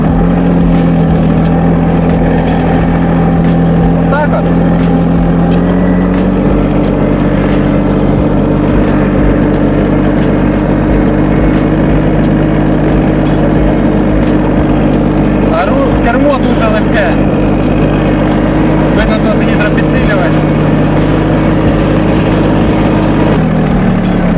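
A Solis 26+ tractor engine runs steadily in third gear, a loud continuous low drone with a slight shift in pitch partway through, while people talk over it.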